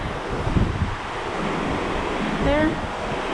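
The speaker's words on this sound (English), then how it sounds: "You can sort of see the waves right there." Ocean waves around a cruise ship at sea make a constant rushing wash, with heavy wind buffeting the microphone and a brief faint voice near the end.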